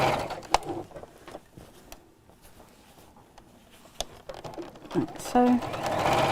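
Sewing machine stitching fabric for an Easter basket, short bursts of needle running between quiet pauses, with someone speaking briefly near the end.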